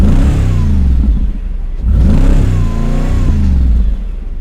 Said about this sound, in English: this really aggressive side exhaust. The sound is beautiful, which we'll cue here in a second.